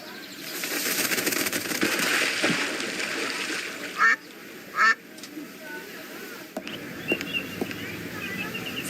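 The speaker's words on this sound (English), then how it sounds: "The ducks are in the zoo" Ducks at a zoo in the video game Secret Files 2 quack, with two short, loud honking calls rising over a busy, noisy background and softer bird and water sounds.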